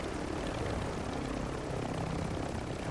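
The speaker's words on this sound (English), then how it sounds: "Oh wait, rival chopper." A helicopter in a video game drones with a steady, loud rotor roar that fills the whole stretch without a break and is heard alone, with no talk.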